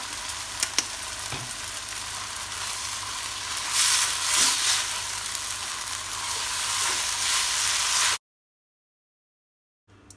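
Glass noodles with sweet soy sauce and oyster sauce are stir-fried in a pan, giving a continuous loud sizzle with scraping stirring strokes for about eight seconds before it cuts to silence.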